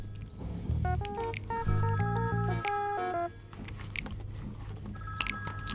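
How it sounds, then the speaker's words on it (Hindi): A telephone rings indoors with a rapid warbling electronic tone in two bursts, moderately loud over a quiet room, followed by faint rustling and a short thin beep. "फोन बज रहा है।"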